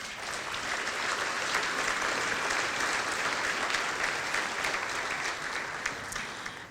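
Audience applause at a Houston comedy night charity event rises and holds as a dense, steady wash of clapping from a large crowd, fairly distant and even throughout.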